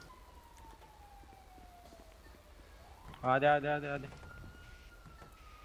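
Police sirens wail in GTA 5, a faint gliding tone that drops, then a loud rising siren burst up close before settling into a steady far wail, with voices speaking over it.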